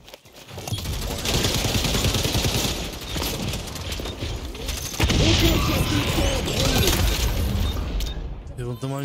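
Gunfire from a sniper rifle and other weapons in the online shooter XDefiant, with sharp bursts and booming shots layered over game noise while a player talks.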